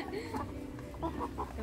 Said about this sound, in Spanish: Viendo las gallinas está.